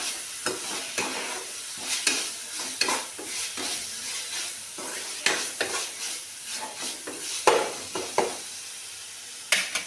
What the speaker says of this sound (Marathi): आणि ह्याच्यामध्ये मी घालून घेते आता धने जिरं पावडर 1 चमचा, थोडीशी हिंग आणि ह्याला परत परतून घ्यायचं